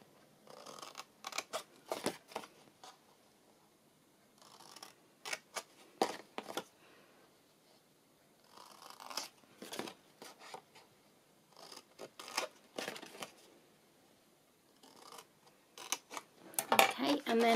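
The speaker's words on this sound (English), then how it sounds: "all you're going to do is cut down each of these score lines here" Paper cut with scissors along score lines, short bursts of crisp snipping and rustling separated by quiet pauses, close and fairly faint.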